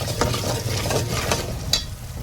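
Red chili powder is stirred and sautéed in a hot pan for a village-style rooster curry, a soft steady sizzle with scraping spoon strokes and a few sharper clinks against the metal.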